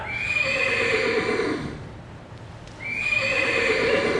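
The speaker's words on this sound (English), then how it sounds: "That horse is Lightning Rod" A horse gives two long, loud whinnies close by, separated by a brief quieter pause, with faint hoof shuffling beneath.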